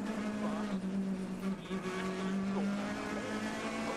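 A rally car at the 2014 Ypres Rally brakes and takes a corner at speed, its engine droning loudly and steadily with shifting pitch and a brief dip midway, while a commentator speaks faintly underneath.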